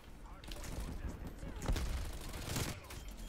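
Rapid automatic gunfire from the Bull Frog submachine gun in Call of Duty Black Ops Cold War, in dense bursts close up, with game effects and a voice mixed in.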